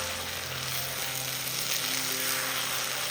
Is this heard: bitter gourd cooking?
yes